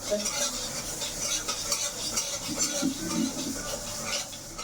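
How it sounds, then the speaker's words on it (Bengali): Lentils (dal) frying in a pan while being stirred, with steady close scraping of a utensil over a constant sizzle that runs throughout. "ডালটা এখন ভাজা হয়ে গেছে"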